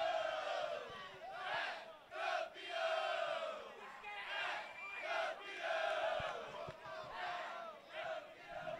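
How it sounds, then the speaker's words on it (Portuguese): Football fans at a stadium celebrate an under-17 championship final win, a far crowd chanting and shouting in surging waves that rise and fall throughout. "Faz a festa, a torcida do Capital!"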